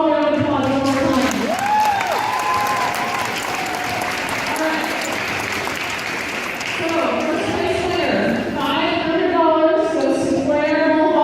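Sustained audience applause for student performers at a high school senior showcase, dense clapping with cheering and voices mixed in throughout.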